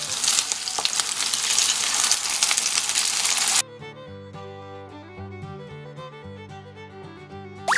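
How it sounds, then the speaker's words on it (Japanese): Pork slices and king oyster mushrooms laid in a hot pan sizzle loudly and steadily as they sear to a golden brown, with occasional crackles, before the sizzle cuts off abruptly and music takes over. "では並べ入れたらそこにこんがり焼き目がつくまで焼きます"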